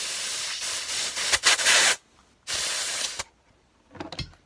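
Compressed air blasts into the brake caliper of a Honda CG125 motorcycle to drive the piston out. Two loud, close hissing bursts are separated by a short silence, followed by faint metallic clicks and no speech.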